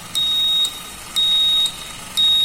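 An Arduino-built smart helmet's buzzer alarm going off when the helmet is disconnected, three loud, shrill electronic beeps of about half a second each, repeating once a second, with no talk.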